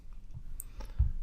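A single mouse click on an OK button in fire simulation software, quiet and close, a brief sharp tap standing alone against faint room hiss.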